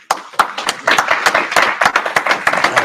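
Crowd at an outdoor street gathering in Birmingham's Bull Ring claps loudly and unevenly, many hands striking in a dense, irregular patter that swells and stays strong for a few seconds.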